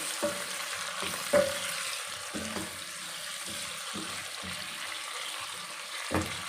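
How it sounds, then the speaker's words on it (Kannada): Tomatoes fry in a pan, a steady sizzling hiss broken by several soft stirring scrapes and two louder knocks near the start and the end. "ಟೊಮೊಟೊನ ಚೆನ್ನಾಗಿ ಫ್ರೈ ಮಾಡ್ಕೊತೀನಿ"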